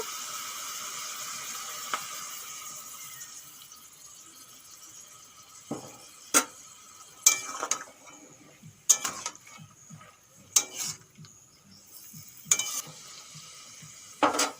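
Pumpkin greens cooking in coconut milk in a pan, with a steady soft sizzle and a run of sharp spatula scrapes and knocks as the greens are stirred, close by and with no talk.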